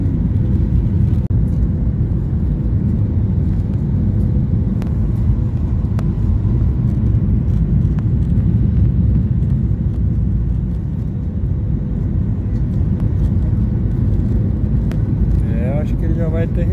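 Inside an airplane descending to land, a loud steady cabin rumble and engine drone fill the whole stretch while people talk over it.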